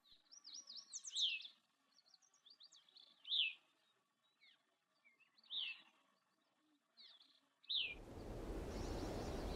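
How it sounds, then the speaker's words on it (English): A grey-cheeked thrush calls in Alaska near Nome, giving clear, high, downslurred notes four or five times at a few-second interval among fainter chirps from other birds, before a sudden burst of loud wind noise. "A calling grey-cheeked thrush was in the same area."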